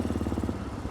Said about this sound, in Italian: una moto molto gestibile con i suoi 40 cavalli, motore instancabile, raffreddata d'aria